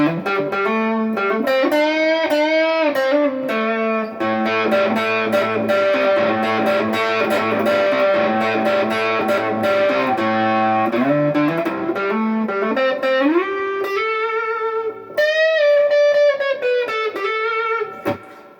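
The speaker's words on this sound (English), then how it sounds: "you got some overdrive or distortion going through, it gives the guitar more of a fuzzier tone" An electric guitar plays sustained chords and melodic notes with a fuzzy, overdriven tone, loud and continuous, with a short pause before a final phrase.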